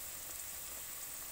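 Onion, tomato and chili paste sizzling in hot oil in a pan, a steady close hiss with fine crackle and no talk, while fish curry with potato is cooked.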